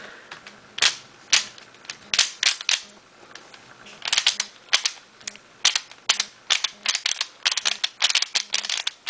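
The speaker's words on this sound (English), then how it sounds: "it's very clicky with the ball bearings inside" A clicky Pyraminx twisty puzzle with ball bearings inside being turned quickly, giving a dense, irregular series of sharp close-up clicks and snaps that continues throughout without talk.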